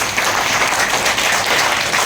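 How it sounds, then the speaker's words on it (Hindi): A seminar audience claps with raised hands in a dense, steady burst of applause that is loud and close, with no break. "ताली थोड़ा हाथ ऊपर करके बजाइए।"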